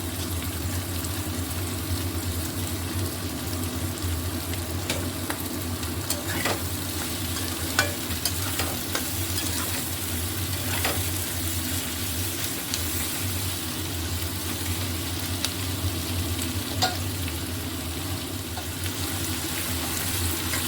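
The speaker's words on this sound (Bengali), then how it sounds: "অল্প পেঁয়াজগুলো কেটে রেখেছিলাম সেটাও দিয়ে দেবো" Chopped onions go into winter vegetables frying in oil. A dense, even sizzle carries on for about twenty seconds, broken by occasional scraping stir strokes close by. No one speaks.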